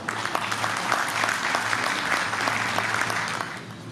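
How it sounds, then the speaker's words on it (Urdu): A hall audience at a Yorkshire Urdu poetry mushaira claps warmly and steadily, many hands together at moderate volume, tapering slightly at the end. "آپ سب کی بہت بھرپور تالیوں میں"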